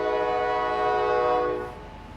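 A passing train sounds a long, loud sustained horn chord that holds steady, then cuts off and fades into low rumbling rail noise as the cars roll by.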